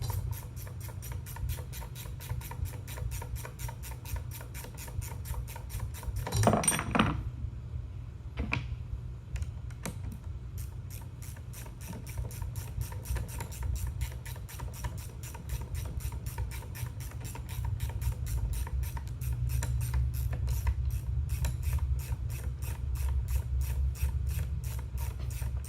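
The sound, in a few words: unscrewing top nut on leaf spring center pin bolt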